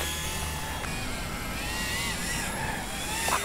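An Eachine E120 RC helicopter whizzes along a street, a steady high-pitched motor and rotor whine that holds fairly loud throughout with slight pitch shifts.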